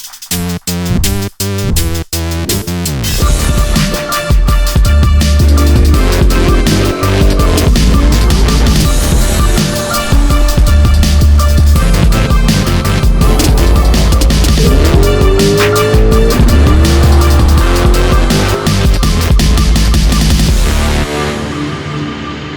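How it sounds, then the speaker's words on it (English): Small block Chevy 400 cubic inch V8 with a solid roller cam running on open headers, cracking to life with choppy pops and then settling into a loud, close, continuous rough idle with occasional revs. "let's see how this thing sounds with open headers"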